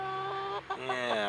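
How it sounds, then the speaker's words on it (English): A Rhode Island Red chicken gives a short, close run of throaty clucks, steady and tonal with a brief break in the middle, heard alone without talk. "Those Rhode Island Reds are just beautiful."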